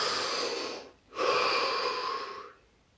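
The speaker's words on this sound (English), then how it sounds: "Take a deep breath." A slow, deep breath: a long airy inhale, a brief pause, then an extended exhale that fades out, close and clear with no talking.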